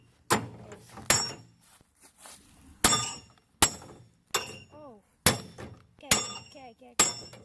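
A hammer repeatedly strikes a microwave pulled up while magnet fishing, giving about eight sharp, loud metallic clanks at uneven intervals, with a short exclamation and faint voices between the blows.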